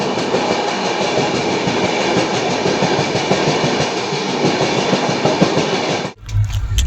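A train runs past along the railway on a Kolkata to Ujjain journey, a loud, steady rumble with rhythmic clickety-clack of wheels on rail joints, cutting off abruptly near the end to a low close noise.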